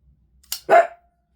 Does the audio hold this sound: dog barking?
yes